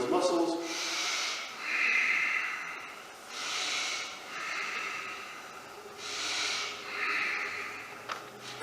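Slow, deep breathing held through a yoga stretch in a seniors' session, several long airy inhale-exhale cycles repeating at a steady rhythm, close and moderately loud with no talk.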